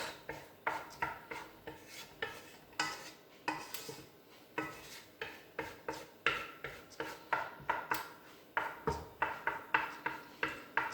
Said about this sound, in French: Donc là, on fait revenir tout doucement notre échalote.